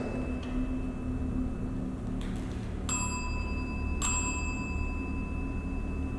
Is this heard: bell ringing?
yes